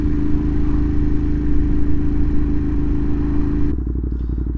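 A Ducati Monster motorcycle runs hot on a summer road, its engine giving a loud, steady, rough-toned drone that shifts to a choppier, lower idle pulse near the end.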